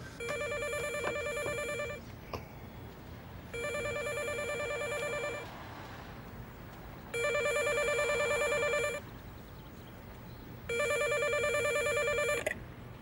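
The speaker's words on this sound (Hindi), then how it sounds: "अब किसका फोन आ गया?" A telephone rings in four evenly spaced electronic bursts, each about two seconds long, clear and moderately close, with quiet gaps between them.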